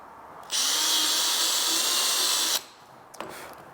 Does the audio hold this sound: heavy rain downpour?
no